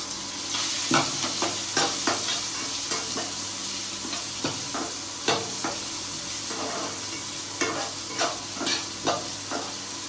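Onions frying in a pan with turmeric for uppittu: a continuous close sizzle broken by repeated scraping stirs of a spoon against the pan, with no talk.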